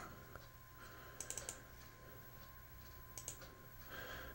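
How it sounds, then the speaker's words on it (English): Quiet computer keyboard typing comes in two short bursts of a few clicks each, over a low steady electrical hum in an indoor room. "we can just go up here and start typing it in"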